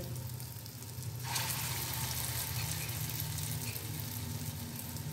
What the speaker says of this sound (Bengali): এইভাবে আমি পকোড়াগুলি ভেজে নেব।